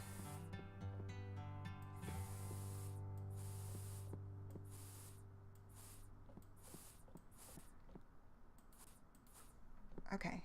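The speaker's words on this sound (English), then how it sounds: "I'm gonna do it in the spray paint here" Spray paint hisses from a can in a steady, close stream for most of the stretch, with brief pauses and a few soft clicks over a continuous background hum.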